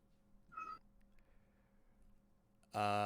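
A cat meows twice, a short faint mew followed by a sudden loud, drawn-out meow close by.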